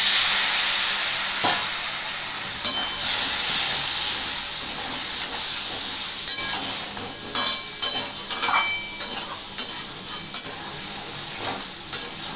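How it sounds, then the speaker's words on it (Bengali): Spices with fried potatoes, lentil-dumpling bori and dried red chillies sautéing in a pan for a Bengali fish curry, a steady close sizzle with scraping spatula stirs and clinks throughout, no talking. "এটাকে একটু ভালো করে কষবো"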